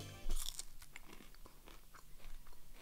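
Crunching bites into oil-free air-fried French fries, a sharp loud crunch followed by a steady run of smaller crisp crackles and chewing, close up with no talking.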